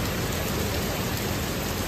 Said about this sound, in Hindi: ये देखो बारिश विद मौसम की बरसात, और इतनी तेज़ हो रही है ना यार